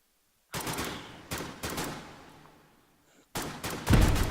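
A scoped rifle fired into the air in a video game: several loud, sharp close shots with booming tails, spaced unevenly, the last two coming in quicker succession.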